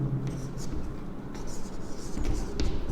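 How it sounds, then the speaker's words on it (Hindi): Chalk or a marker scratches and taps across a board while coordinates are written in a classroom, soft and close, with faint murmuring underneath. "मैं लिखता हूँ"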